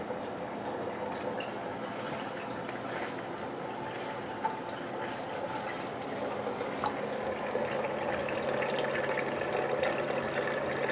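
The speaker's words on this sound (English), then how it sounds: "siphon down into the carboy" Home brew wort and water siphon down into a carboy, a steady trickling gurgle with occasional drips, close and continuous, slightly fuller toward the end.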